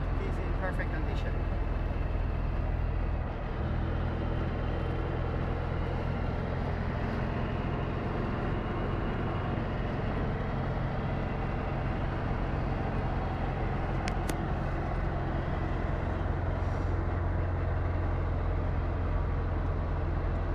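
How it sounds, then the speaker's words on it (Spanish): A 1961 Porsche 356B T5 in perfect condition drives along, its engine and road noise forming a steady, continuous drone heard from inside the car, with someone talking over it. "It is a pleasure to drive a Porsche 356 from 1961."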